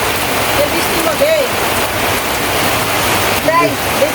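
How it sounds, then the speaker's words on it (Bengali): Steady rain falls and water runs continuously in a village setting at dusk, a dense hiss throughout with a few faint bird-like chirps and brief voice sounds behind it. "দেখেন বৃষ্টি শুরু হইলেই এই জায়গার মধ্যে জল বাজে"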